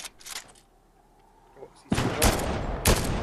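Bursts of gunfire from teams battling in Fortnite, a couple of distant cracks early, then a loud rapid volley of close shots after a brief quiet stretch.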